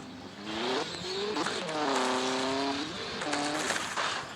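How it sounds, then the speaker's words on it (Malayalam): A Nissan GT-R in a video game crash test, its engine roaring and rising in pitch with tire squeal, loud and continuous throughout, swelling in the middle and again near the end. "GTRൻ്റെയും ക്രാഷ് ടെസ്റ്റ് നടത്താം."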